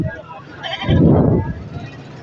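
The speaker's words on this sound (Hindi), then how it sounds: "ये बकरी बीतल" Beetal goat at a busy goat market in Lalukhet, Karachi, giving one loud, wavering bleat of about half a second, rising over the crowd's talk and market background noise.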